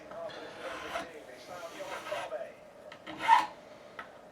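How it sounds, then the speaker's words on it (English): Close, quiet rasping of a sharp metal file stroked back and forth in short passes over guitar fret edges, with a brighter scrape near the end and soft talk in between. "It's a very sharp file, this."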